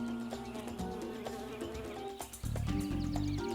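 Bees buzz around flowers in a close, continuous drone that holds steady and thickens toward the end, with no voices.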